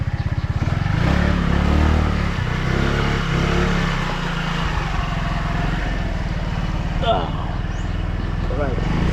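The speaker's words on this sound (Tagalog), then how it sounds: "Yan ang maganda sa motor na maliit lang." A small motorbike circles nearby at a birthday swimming outing, its steady low engine drone running throughout under people talking.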